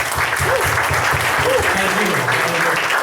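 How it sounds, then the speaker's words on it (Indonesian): Lively applause from a gathered audience at a morning agency event runs continuously and loud, with a voice talking over the clapping. "tepuk tangan yang meriah"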